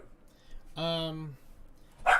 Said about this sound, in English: My sister's dog is barking